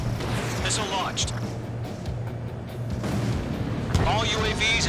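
Missile launches and explosions during an aerial combat mission in Ace Combat 7, heavy booming rumbles under continuous engine roar, with radio voices chattering over the action.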